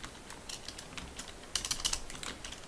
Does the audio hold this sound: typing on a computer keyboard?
yes